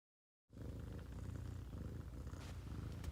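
A mother cat purrs steadily while nursing her kittens, a soft, continuous rumbling purr that begins after a brief silence and stays close and even throughout.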